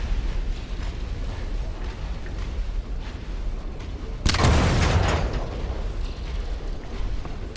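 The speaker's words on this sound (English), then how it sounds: "Oh, we can shoot him from here." A single loud shot booms out in the video game Sand, a sharp blast that rumbles and decays over a second amid constant mechanical creaking and background noise.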